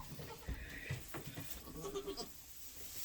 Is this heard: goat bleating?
yes